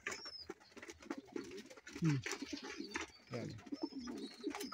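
Pigeons coo repeatedly nearby in soft, rolling bursts with short pauses between calls, while someone briefly speaks over them.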